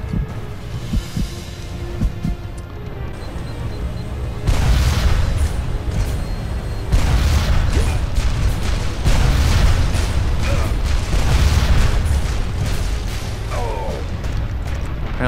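Booming rocket blasts and gunfire in the shooter game Duke Nukem Forever, dense and continuous, with heavy low-end thumps swelling louder midway and carrying through to the end.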